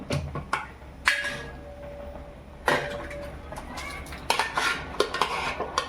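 Metal pots and utensils clink and scrape in a series of sharp knocks as cooked pea curry is transferred into another pot, with stirring and scooping sounds between them, close by and without speech.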